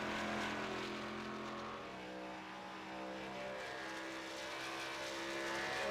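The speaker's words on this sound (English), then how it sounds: "First car out on the track, that is Joe LaFilippe." A virtual race car engine drones steadily on track at Chicagoland in an eSports race, a sustained whining, slightly wavering pitch that dips briefly midway, with no talk over it.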